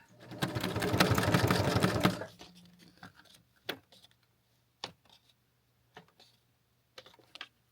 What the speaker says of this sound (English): run a straight stitch on your sewing machine across so it looks like that